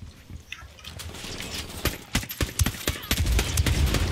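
Gunfire crackles in Ghost Recon Wildlands, a rapid irregular string of sharp shots and short bursts that starts sparse and grows denser and louder toward the end.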